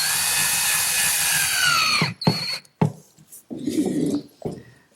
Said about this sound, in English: Now we can secure everything with a few screws.